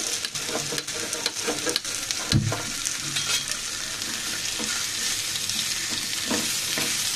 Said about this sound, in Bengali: সুন্দর করে আলুগুলোকেও ভেজে নিব। আবার একটু তেল দিয়ে দিচ্ছি।